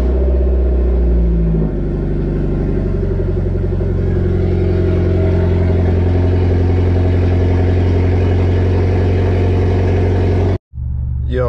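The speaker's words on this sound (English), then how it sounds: "So right now we're gonna start up the Evo and make our way down there." A built Mitsubishi Evo X with over 1,000 horsepower starts up and settles into a loud, steady idle, its deep engine rumble continuous and close until it cuts off abruptly near the end.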